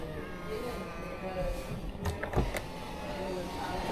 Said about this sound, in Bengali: so we can adjust the Windows two